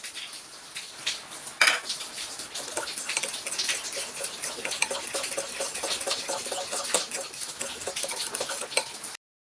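Vegetable salad being tossed with cheese and mayonnaise in a bowl, with steady clinking and scraping of a utensil against the dish throughout and one sharper knock near the start.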